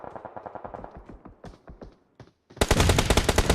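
Gunfire erupts in a PUBG Mobile esports match: rapid rhythmic bursts of automatic shots, a brief pause, then a louder, denser close-range volley.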